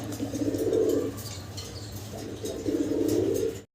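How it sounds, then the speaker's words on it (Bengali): Two bursts of low cooing from yellow pigeons at a pigeon farm, each about a second long, separated by a quieter gap, nearby and steady. "ইয়েলো কালারের বন্টিনেট কবুতর দেখাচ্ছি"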